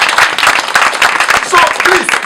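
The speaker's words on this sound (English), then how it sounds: "Clap for me." An audience at a church sermon claps briefly, a brisk burst of hand claps mixed with voices and cheering over a couple of seconds.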